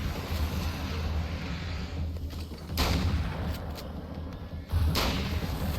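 Heavy booming explosions from grenades in the game Alan Wake's American Nightmare, a dense rumbling barrage with two sharper blasts standing out near the middle and end, loud and continuous without speech.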